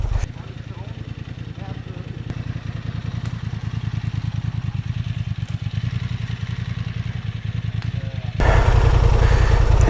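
Honda Transalp 750 motorcycle riding off-road over soft soil with roots, its engine chugging in a steady, loud rhythmic pulse close by, then swelling into a harsher, brighter roar near the end.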